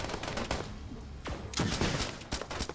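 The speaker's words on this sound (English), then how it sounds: "that massive rocket launcher's doing all the work." A massive rocket launcher fires in the video game Starbound, a rapid run of booming blasts and whooshes packed closely together, moderately loud, with no talk.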